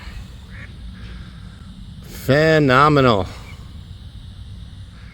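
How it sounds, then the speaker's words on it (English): A duck in a park gives one loud, close burst of harsh quacking lasting about a second, set against quiet outdoor background; someone speaks briefly. "Let's check in on these ducks and see what they're doing."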